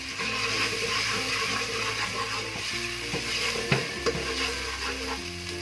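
A large onion, finely chopped, fries and sizzles in a pan while being stirred, a steady dense hiss with a few scraping clinks of the spoon, no voices.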